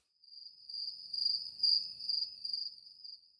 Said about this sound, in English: Gabe, put some crickets in there